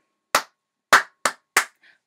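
Four sharp hand claps in an uneven rhythm, close and loud, two spaced apart then two quicker ones, followed by a faint softer tap, as a call-and-response clapping pattern in a music lesson.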